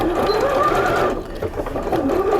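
A Bernina sewing machine stitches steadily, its fast mechanical whir running loud and close with a brief slowdown midway before resuming at full speed.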